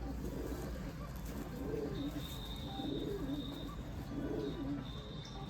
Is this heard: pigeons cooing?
yes